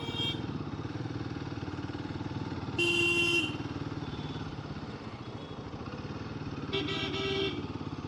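A motorcycle rides onto a highway near Varanasi: a steady engine drone runs throughout, with two bursts of loud vehicle horns from nearby traffic.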